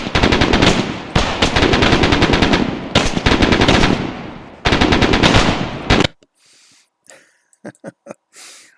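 Enemy gunfire in a tactical shooter video game: rapid bursts of automatic weapon fire, loud and close, in three long stretches, then quieter scattered sharp shots and faint breathing-like noises.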